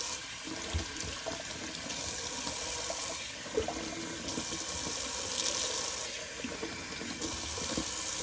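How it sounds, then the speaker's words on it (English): A tap runs steadily with cold water rinsing a shaving brush, a continuous close hiss and splash that shifts slightly in tone as the brush moves under the stream, with no talking. "let's do a little cold water rinse"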